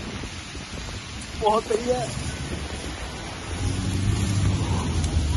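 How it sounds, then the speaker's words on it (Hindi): Heavy, cold rain falls steadily as a broad, continuous wash of noise that grows louder toward the end, with a brief spoken exclamation near the start. "फिर गंदे वाली बारिश हो रही है अभी और ठंड भी उसकी वजह से बहुत हो गई है"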